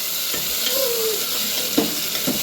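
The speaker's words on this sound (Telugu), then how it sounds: "అల్లం వెల్లుల్లి పేస్ట్ బాగా వేగిన తర్వాత టమాటా వేసుకోవాలండి" Tomato pieces and ginger-garlic paste sizzle steadily in a pan for a mutton curry, with a few close scraping stirs of a spoon breaking through the constant frying hiss.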